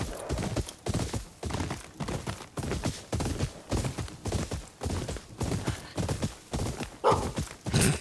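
Steady rhythmic clip-clop of horse hooves at a trot in the video game Ghost of Yotei, with a brief whinny near the end, fairly close and even.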